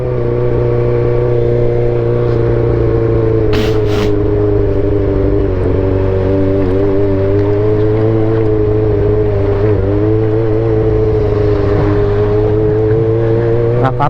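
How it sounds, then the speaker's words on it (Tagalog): A jeepney engine drones steadily and loudly on a rough road, heard from a motorcycle rider's position as the jeepney approaches and passes, with a brief sharp high burst partway through. "Okay, kasalubong tayong jeep."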